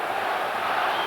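Boxing arena crowd roaring and yelling for Tyson during his fight with Holyfield, a dense continuous wall of voices, loud and sustained without letup.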